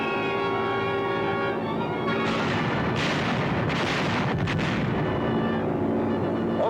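Bombs from a World War II Consolidated B-24 raid over Sicily explode in heavy, continuous rumbling blasts, loud and dense, with deep booming surges over a constant roar.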